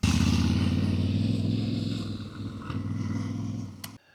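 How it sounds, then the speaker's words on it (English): Motorbikes come down a fire break road on a hillside, a loud buzzing engine drone close by that holds steady then gradually fades before cutting off. "Oh, I've got motorbikes coming down it."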